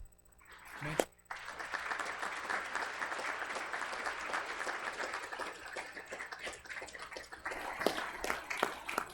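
Audience at a school committee meeting breaking into sustained applause, a dense wash of clapping that swells and carries for several seconds, with a voice briefly over it.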